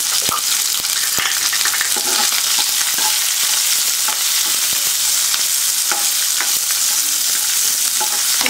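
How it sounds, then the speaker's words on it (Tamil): Around twenty small shallots sautéing in hot oil for a fenugreek curry make a loud, continuous close-up sizzle, broken by frequent light scrapes and taps of a spoon stirring the pan. "சின்ன வெங்காயம் ஒரு இருபது சின்ன வெங்காயம் போட்டுக்கலாம்"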